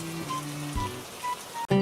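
Steady rain patters down in an animated Hindi children's story, a soft continuous hiss running the whole time beneath sustained musical tones, with a brief dip in loudness near the end.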